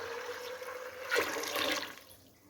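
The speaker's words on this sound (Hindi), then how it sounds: "और पानी डाल देना है।" Water pours into a pressure cooker holding black chickpeas, salt, black pepper and bay leaves, a soft splashing stream that rises for about a second and then tapers off, with no talking.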